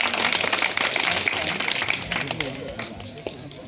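Applause from a village temple chariot festival audience, dense clapping running steadily throughout at moderate loudness, mixed with crowd noise and some talking.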